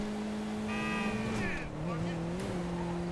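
A car engine in Grand Theft Auto Online hums steadily with shifting pitch, a whine sweeping up and down, under a speaking voice.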